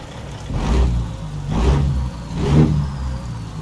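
A Caterpillar C15 diesel truck engine in American Truck Simulator revs up three times in a steady rhythm, each surge rising and falling over a low rumbling idle.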